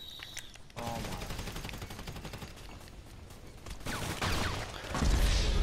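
Automatic and single gunfire in a first-person shooter game, steady rattling bursts filling the clip and growing louder near the end, with game ambience and no speech over it.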